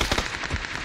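Gunfire from an SLR sniper rifle in PUBG: Battlegrounds Team Deathmatch, heard as a few sharp, loud cracks over a dense, noisy in-game background that continues throughout, with no voices.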